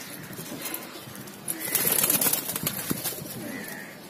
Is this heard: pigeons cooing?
yes